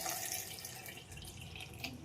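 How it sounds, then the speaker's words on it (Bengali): Water is poured into a pressure cooker holding jackfruit seeds and whole potatoes, giving a short, faint, steady splashing trickle with no talking. "এবার দিয়ে দেব জল"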